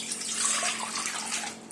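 Water pours steadily into a pot or measuring vessel in a kitchen while preparing sago for sun-dried sabudana chakli, a continuous splashing stream close by with no talk.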